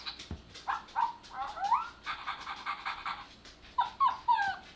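A small toy dog gives off yips, whimpers and panting barks when pressed, several short electronic yelps in a row close by, fairly quiet with no talk over them.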